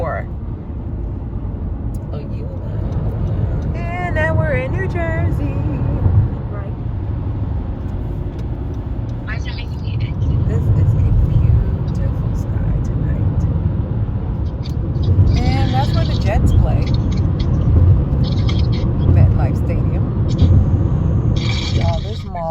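Inside a car cruising on a highway through New Jersey, a loud, steady road rumble and engine drone fill the cabin, with people talking over it throughout.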